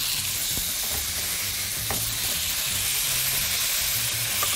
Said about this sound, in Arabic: شايفة بلش يتكرمل معاي السكر البني